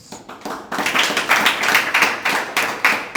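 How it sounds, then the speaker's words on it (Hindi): An audience at a spiritual discourse claps in a fairly even rhythm, a close, lively patter of many hands that builds after a soft start, with no talking. "ताली किस पर बजाई?"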